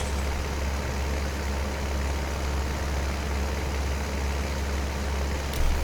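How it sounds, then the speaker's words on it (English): A tractor engine in Farming Simulator 19 drones steadily as it pulls equipment, a loud, constant low rumble with no change in pace and no talk over it. "This tractor's doing pretty well at pulling this."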